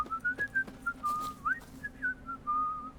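A video game character in The Witcher 3 whistles a slow, wandering tune in short phrases, clear and fairly close, over a quiet low background hum.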